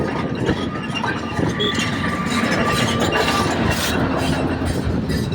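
Swollen river water pours downstream after a dam release, a dense, continuous rushing wash heard up close and fairly loud, without any talking.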